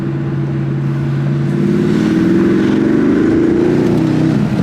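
A 2020 Porsche Panamera Sport Turismo GTS taking a corner fast, its engine humming steadily from inside the cabin, then rising in pitch as it accelerates out of the bend, loud and continuous.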